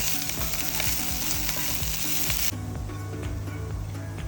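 Chicken masala sizzles and fries in a pan with fresh coriander leaves added, a steady loud hiss with scraping stirs that shifts to a denser, lower crackle partway through.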